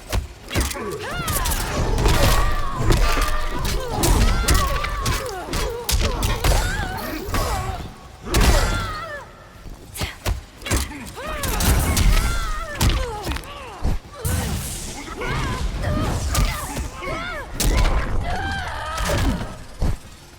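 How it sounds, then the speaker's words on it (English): Gunfire and hit impacts from the fighting video game Mortal Kombat 11, dense rapid bursts of shots mixed with thuds, whooshes and crashes, loud and near, continuing in waves with brief lulls. "if I tried to walk back there, I'll actually get hit by the gunshots this time."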